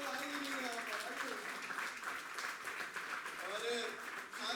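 An audience at a Hindi poetry gathering applauds steadily, a dense wash of clapping that continues throughout while a voice talks over it.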